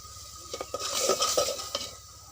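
Spices being stirred and sautéed in a pan with chili powder and salt, heard as a steady run of scraping strokes and clinks over a soft background sizzle, close up with no voices.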